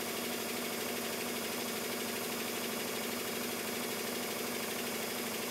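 A Stuart triple expansion model steam engine runs steadily while its piston rings bed in, giving a continuous, even mechanical chugging hum with fine rapid pulsing, close and alone with no talking.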